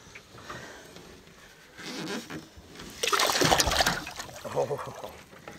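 A caught fish, a Bassman DT lure still involved, is eased back into the water, giving a soft swish then a louder splashing burst from the angler's hands, close up in the open air.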